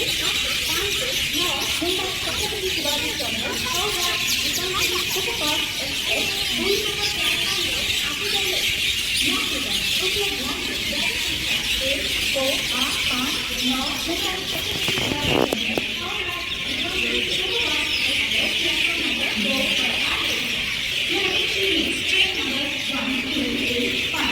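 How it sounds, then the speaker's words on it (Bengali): Birds chirp and twitter continuously in the background, a steady busy chorus with faint murmuring voices and station ambience underneath. "পাখিগুলো না সবসময়ের জন্য কিচিরমিচির আওয়াজ করতে থাকে"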